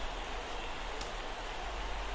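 Rain falls in the baseball video game MLB The Show 17 as a faint, steady, even hiss of drops with no break, heard alone.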